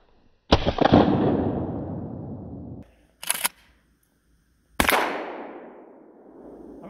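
A shotgun loaded with buckshot fires at an outdoor range: one loud close blast with a long decaying echo, a sharp metallic clack of the action, then a second blast ringing out across the range.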